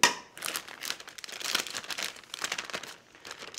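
Chicken pieces shaken in a bag of flour, a crisp crinkling and rustling of the bag in uneven bursts, close and fairly loud, with no talk.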